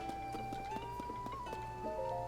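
Horse hooves clip-clop in Tears of the Kingdom, a steady quick rhythm of hoof beats under a sustained droning game music tone, moderately quiet with no talking.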